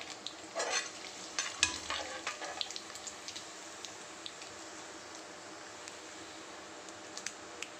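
Mustard seeds, cumin and peppercorns sputter in hot oil for a lentil kulambu, with a burst of crackling pops and spatula stirring early on, then a quieter steady hiss with occasional faint ticks; no voices.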